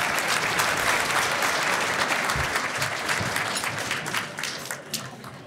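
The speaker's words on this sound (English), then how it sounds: "Let's give yourselves another round of applause." An awards-show crowd gives a sustained round of applause for Idaho's fastest-growing companies, loud dense clapping filling the hall and tapering slightly toward the end.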